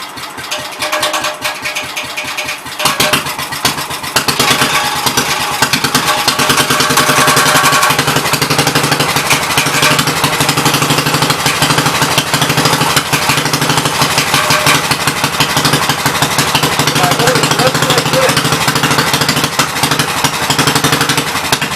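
A Briggs small engine on an old Wallace project machine coughs and catches after a few seconds, then runs loud and steady up close with a rough, pulsing idle for the rest of the stretch.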